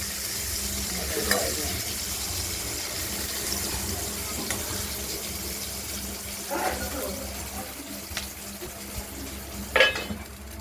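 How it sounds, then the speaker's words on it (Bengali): Stuffed pointed gourds fry in a pan, giving a continuous close sizzle and hiss. A few sharp clinks and scrapes from stirring or turning stand out over it, with no clear voices. "পটলগুলোকে আমরা 4-5টাই ভাবে ভেজে নেব।"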